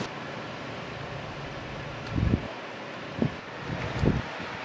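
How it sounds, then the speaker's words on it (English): Gusty wind of a night storm sweeping over a small lake with whitecaps, a steady low roar with a few stronger buffeting gusts hitting the microphone, no voices. "the night has just turned into this like really beautiful windy storm"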